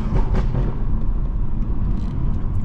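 A BMW car engine running, a low steady rumble heard from inside the car, close and fairly loud with no talking.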